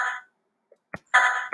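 Patatap app sounds from the blue sound bank, short bright synthetic tones and clicks triggered by key presses, a few separate blips within under two seconds, clean and close with no talking.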